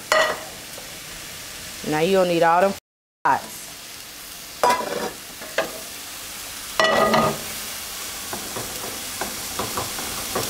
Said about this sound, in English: Gonna go ahead and start that bacon.